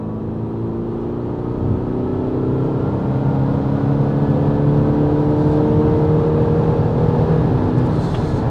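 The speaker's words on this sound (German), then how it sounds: "Vollgas." An Audi A6 3.0 TDI Competition diesel accelerates at full throttle, its engine droning loud and close as rising harmonic tones climb steadily through the gears with no talk over it.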